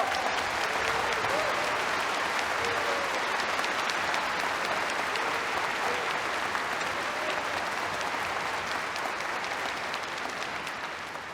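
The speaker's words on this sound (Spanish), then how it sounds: "Un aplauso." Sustained applause from a concert audience for the UNAM Philharmonic Orchestra, a dense, even roar of many hands clapping that holds steady for several seconds before easing slightly at the end.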